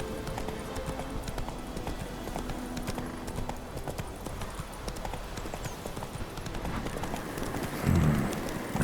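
Roach, a horse in The Witcher 3, plods along with steady, rhythmic hoof clip-clops at close range over a low ambient bed, ending with a louder thump.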